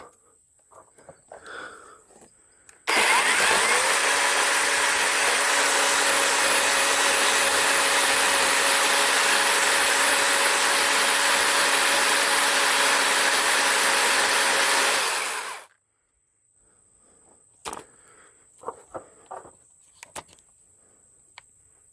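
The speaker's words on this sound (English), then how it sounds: "You just want to take your chainsaw." A chainsaw cuts a 2x4 to shore up a wooden structure, roaring loud and continuous for about twelve seconds after an abrupt start, then cutting off to near quiet with a few light knocks and steps.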